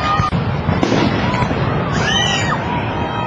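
A fireworks show at Bonners Ferry bursts continuously, with dense crackling pops and booms filling the air, whistling rising streaks and a crowd cheering and talking underneath.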